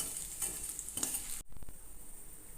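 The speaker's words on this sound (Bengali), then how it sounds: "ফোড়নটাকে খুন্তি দিয়ে আগে একটুখানি নাড়াচাড়া করে নিচ্ছি।" Whole tempering spices and bay leaves sizzle in hot oil in a pan while a spatula stirs them in scraping strokes. The hiss is loud and close, then cuts to a softer sizzle with a few light clinks.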